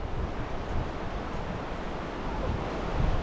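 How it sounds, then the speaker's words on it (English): Heavy rain pours steadily along a rainforest creek walk in North Queensland, a dense, continuous hiss that swells slightly toward the end, with no voices. "just on cue it started pumping down rain"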